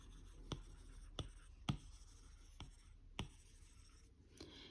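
Stylus writing on a tablet screen in the Goodnotes app: faint, sparse taps and soft scratchy strokes against a quiet background, close by.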